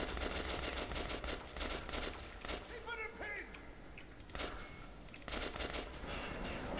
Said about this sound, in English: Who's still shooting me?